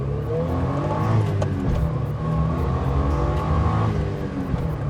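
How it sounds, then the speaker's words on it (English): A Suzuki Jimny accelerates onto a highway, heard from inside as a steady, loud engine drone with rising and shifting tones through the gears and constant road rumble underneath. "Acceleration is actually not too terrible when you're just getting up to like 30 miles per hour."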